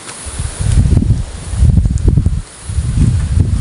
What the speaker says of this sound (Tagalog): Grabe, ang lakas pala ng hangin din eh.